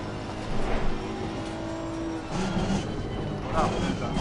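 Honda race car with a small engine and large turbo in Assetto Corsa Competizione at Kyalami, engine droning steadily with rising revs and a turbo whine, under continuous voice-over talk.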